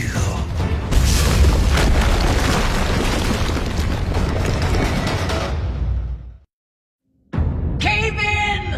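A heavy, roaring rumble of a cartoon cave-in fills several seconds, then cuts abruptly to silence before another burst of noisy crashing with tonal effects.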